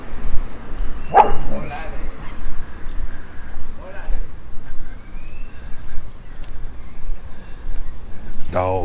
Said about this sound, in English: Dogs bark the same way